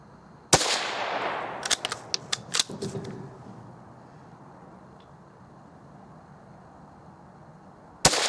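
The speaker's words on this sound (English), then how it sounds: "I'm going to try and shoot at a different point in that wet newspaper so that we get fresh results." A Winchester model 275 rifle fires at wet newspaper with a sharp, loud crack, followed by a scatter of clicks and rattles from handling the action, then a second sharp crack at the very end.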